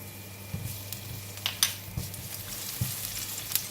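Garlic going into about a tablespoon of hot cooking oil for a prawn kuey teow tom yum, giving a steady close sizzle with a few brief stirring knocks and spatters, no voices.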